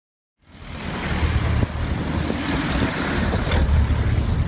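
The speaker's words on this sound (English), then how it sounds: "This was a rest area for jeepneys." Vehicle engines rumble steadily at a jeepney rest area in Manila, a continuous low traffic drone with a passing surge, heard from nearby without speech.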